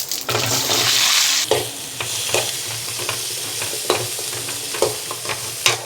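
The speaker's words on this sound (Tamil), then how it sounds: "கடுகு பொறிஞ்சிடுச்சு நம்ம பலா கொட்டையை இதில் போட்டுக்கலாம்" Jackfruit seeds fry and get stirred in hot oil with popped mustard seeds in a pan, giving a steady close sizzle broken by repeated scraping stirs, with no voices.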